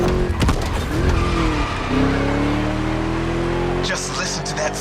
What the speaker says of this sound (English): Just listen to that V8 like a chonky, down-tuned guitar riff